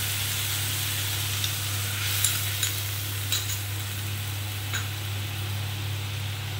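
Mustard paste thinned with a little water goes into hot oil for a fish curry, giving a soft, continuous hiss and sizzle with a few faint spatters and stirring clicks over a low steady hum.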